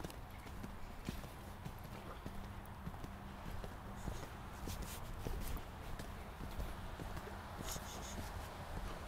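Horse hooves setting off at a gallop, a steady rhythmic clip-clop of footfalls fairly faint beneath wind and outdoor rumble, with a brief voice in the background.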